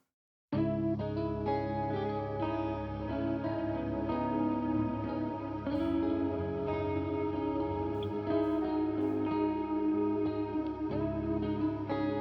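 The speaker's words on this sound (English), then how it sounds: "Like a Strymon-esque kind of reverb or delay to it. Very spacey and mysterious." Sustained electric guitar tones washed in spacious Strymon-style reverb and echoing delay, notes blooming and trailing into a dreamy, atmospheric haze throughout.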